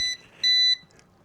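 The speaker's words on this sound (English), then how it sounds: "some beeping to hear for about a minute." A G11PRO drone emits short electronic beeps while reconnecting: a brief tone followed by a clearer, steady, higher beep lasting about a third of a second, close and moderately loud.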